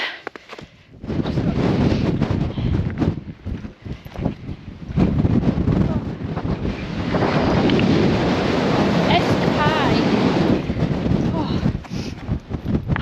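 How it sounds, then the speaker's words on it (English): Strong gusting wind on an open mountain fell in the Great Langdale area of the Lake District, roaring steadily across the microphone for most of the clip with a brief lull early on; a voice talks underneath. "this wind's getting stronger"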